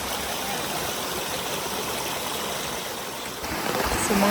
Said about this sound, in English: nakita namin tong stream na to. It's very nice. The small waterfall.